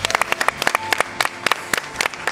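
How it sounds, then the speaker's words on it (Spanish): A studio audience on El Toro Loco Show applauds in a lively burst. Sharp individual claps stand out close by over a softer bed of crowd clapping, and no one speaks. "Un aplauso para todos."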